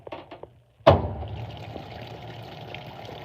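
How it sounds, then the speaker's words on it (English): Water abruptly rushes into an Estate ETW4400WQ1 washing machine after a few quiet clicks, then settles into a steady, close filling hiss and trickle. "Yeah, that has to be the water."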